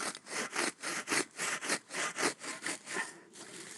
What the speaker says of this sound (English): I'm just literally going to saw it.